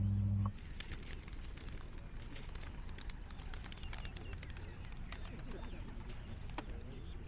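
Pigeons released outdoors at a grave dedication ceremony in Roma, Queensland, a burst of flapping wings and fluttering that continues steadily, fairly close, after a brief low hum at the start.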